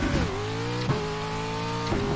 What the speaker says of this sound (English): A little bit more revs through there